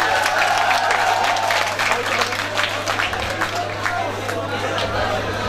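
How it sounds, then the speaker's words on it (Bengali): Audience applause at a school reunion prize-giving, a dense steady clapping that fills the whole stretch, with crowd murmur underneath. "পুরস্কার নিচ্ছে, করতালি হবে,"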